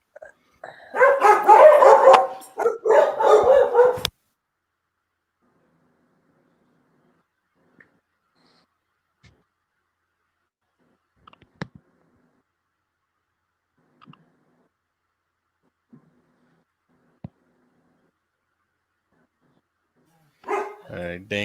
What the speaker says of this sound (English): Dang dogs barking at everything.